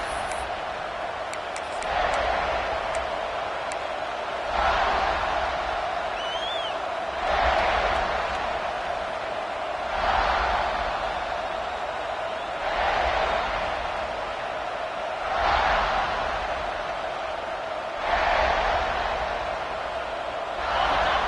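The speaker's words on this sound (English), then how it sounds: "Listen to this crowd just shaking the girders of this place, trying to help their defense." A large American football stadium crowd roars continuously during a Mississippi State vs South Carolina game, the noise swelling and fading in a steady rhythmic pulse as if chanting in unison.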